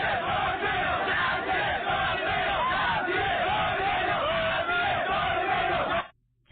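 A crowd of protesting bajaj drivers in Mogadishu shouts and chants together, a steady roar of many voices heard from close by, fading out just before the end.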